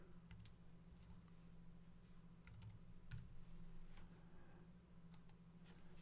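Computer keyboard typing a username, quiet soft key clicks in short irregular bursts over a low steady background hum, faint and close.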